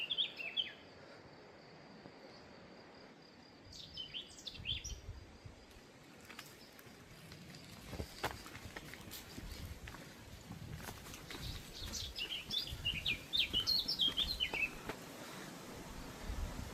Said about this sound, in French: Écoutez, le vent, les oiseaux.